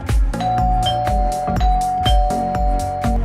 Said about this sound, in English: Indoor chime.